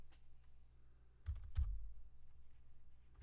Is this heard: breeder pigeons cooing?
no